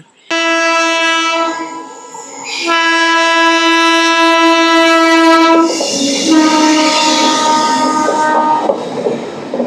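Rayagada-Guntur Express sounding a long, loud multi-tone horn blast that stops and resumes, then gives way to rushing rail and wheel noise as the train runs near Anakapalli station, with no talk.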